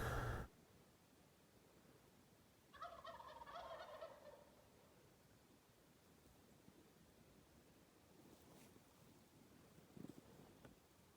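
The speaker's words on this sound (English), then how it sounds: "Obviously you hear them gobbling." Wild turkeys gobble in the distance on an Arizona spring hunt, one rattling burst standing out above a low wind hiss, with faint calls scattered later.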